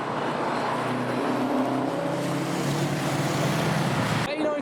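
A Toyota Supra JDM car drives past at a drive-by car show, a loud continuous engine drone with a smooth pitch shift as it goes by, cutting off sharply at the end.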